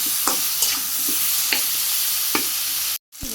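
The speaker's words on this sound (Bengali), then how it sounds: "ফুলকপি আলু একসাথে ভাজি করে উঠে নিই" Cauliflower and potato fry together in a pan in a simple Bangladeshi village kitchen, with a steady close sizzle and several sharp scrapes of stirring before a sudden brief silence near the end.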